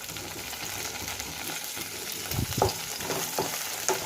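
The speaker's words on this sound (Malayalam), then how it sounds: "ഈ ഇഞ്ചിൻ്റെ വെളുത്തുള്ളിൻ്റെ ഒക്കെ ഈ പച്ച മണം മാറുന്നത് വരെ ഒന്ന് നമുക്ക് വഴറ്റി കൊടുക്കുക" Ginger, garlic and curry leaves sauté in a pan, a dense close sizzle that runs throughout, with a few scraping stirs and clinks toward the end.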